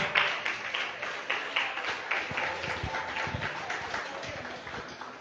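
A church congregation claps in applause during a Spanish-language sermon, uneven rhythmic clapping in a reverberant room, moderately near, with bursts swelling and fading.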